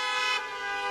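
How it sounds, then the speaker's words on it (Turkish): Car horns from taxis blare continuously in a street protest in a capital city, a loud sustained honking with overlapping tones close by. "başkent sokaklarında taksiciler korna çalma eylemi yaptı"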